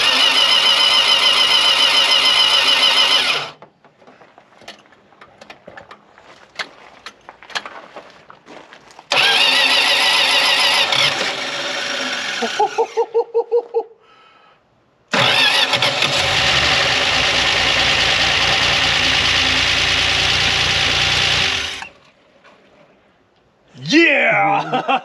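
An old Plymouth Duster, sitting unused for 26 years, cranks and catches in several loud bursts, running for a few seconds each time with quiet gaps and stalls between, then roars to life for a longer run.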